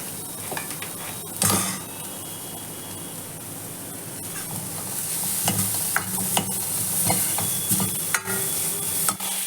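Chopped onions fry in butter with a pinch of asafoetida in a pan over a medium gas flame for a vegetable soup. A continuous close sizzle runs throughout, punctuated by sharp scrapes and clinks of stirring against the pan.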